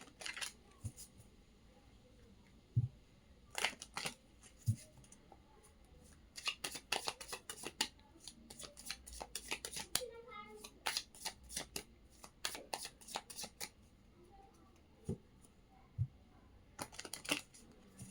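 A tarot deck is shuffled close up in repeated quick riffling bursts separated by short pauses, with soft card taps and the occasional light knock.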